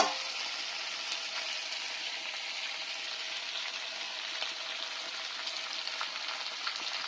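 Chopped onions sizzle and fry steadily in a hot pan for dhaba-style chicken masala, a continuous bright crackle at an even level with occasional small pops throughout.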